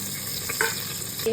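Whole spices such as cinnamon, cloves and nutmeg hiss and crackle in hot ghee and coconut oil, a steady close sizzle with a few brief clinks of a utensil against the pan.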